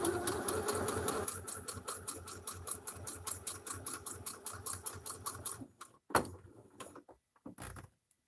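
A sewing machine stitches fabric for a doll purse in a fast, even mechanical chatter that slows and stops, followed by a few clunks and a short restart.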